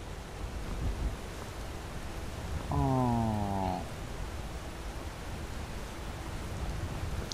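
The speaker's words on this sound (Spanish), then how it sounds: "¡Está lloviendo!" Steady, even rain hiss fills the whole scene in the video game Skyrim, a soft wash of falling drops, broken briefly by a short exclaimed voice near the middle.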